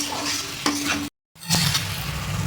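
A spoon scrapes and stirs semai pulao (vermicelli with raisins, cashews and sugar) in a hot pan, with a steady sizzle and two bursts of scraping strokes split by a brief silent cut, close and loud.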